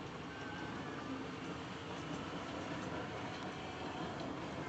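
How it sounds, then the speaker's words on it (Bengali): A train rolling past on rails, a steady broad rumble with faint wheel whine, distant and quiet, constant throughout. "এখানে ট্রেন আসতেছে যাচ্ছে, ওই দেখেন একটা আসলো"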